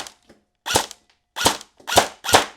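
An airsoft AK rifle fires four sharp, loud single shots on a chronograph, spaced roughly every half second, with a faint click before the first.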